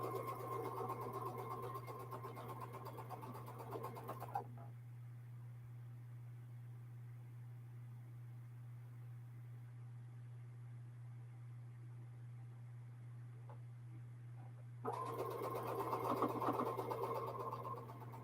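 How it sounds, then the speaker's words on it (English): A domestic sewing machine hums steadily while stitching half-square triangle quilt blocks, running for several seconds, pausing into near silence, then starting up again close by. "so that I can continue sewing with my half square triangle on the top as I feed it through the machine"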